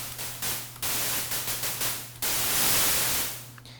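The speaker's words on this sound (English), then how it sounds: "Moving on to the last addition is the noise generator" Harsh broadband white noise from a WaveDuo 1.5 synthesizer's noise generator switches on and off in uneven bursts, some rising and fading, before a longer sustained wash of hiss, with a faint steady hum beneath.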